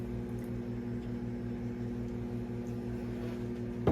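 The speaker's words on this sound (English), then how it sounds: "It is currently in the microwave" A microwave oven runs at home while dinner heats, giving a steady, low mechanical hum with a faint rhythmic pulse, heard close and alone with no talking.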